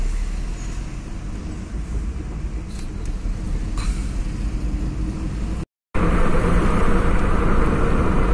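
A car cruises along a highway on a long road trip in India, with steady road rumble and engine drone continuing throughout, cut briefly by a short gap before the noise resumes.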